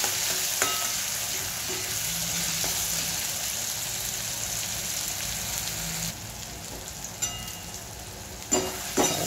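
Tomatoes fry down soft in a pan for a dried Bombay duck chutney, giving a steady, close sizzle broken by occasional sharp scrapes and clicks of stirring, without speech.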